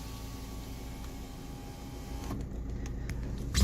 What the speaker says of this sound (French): donc on va ouvrir la fenêtre